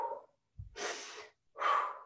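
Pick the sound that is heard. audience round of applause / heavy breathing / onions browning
heavy breathing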